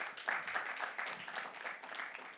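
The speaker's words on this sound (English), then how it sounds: "Please give him another round of applause." Audience applause at a Caribbean Investment Forum launch event, a steady, faint wash of many hands clapping from a crowd for a couple of seconds.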